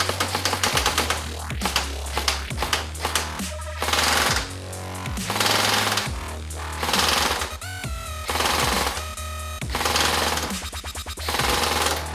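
Lancer Tactical ProLine Gen-2 Hybrid airsoft gun firing tracer BBs through an Ace Tech tracer unit, heard as repeated loud bursts of rapid mechanical shots separated by short pauses, with no talking.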